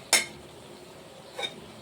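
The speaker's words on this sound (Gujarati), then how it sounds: "અને ધીમે ધીમે મિક્સ કરવાનો છે" A spoon stirring coriander-cumin masala into stuffed okra in a pan, two clear metallic clinks against the pan spaced over a second apart, with quiet background between.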